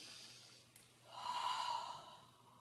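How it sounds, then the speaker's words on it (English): A single slow breath during a Pilates exercise, a soft airy inhale swelling into a louder, fuller exhale, close and alone without talk. "Use the breath on your exertion. Inhale. Exhale, inhale."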